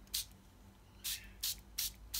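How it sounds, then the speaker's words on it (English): A handheld spray bottle spritzes water onto Brusho paint in five short, sharp hissing bursts with gaps between them, close and fairly quiet. "I'm going to get my spritzer, and I'm actually going to spritz across"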